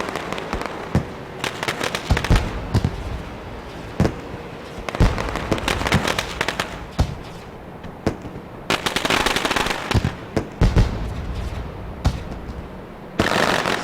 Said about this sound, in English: Celebration and fireworks for this guy right here.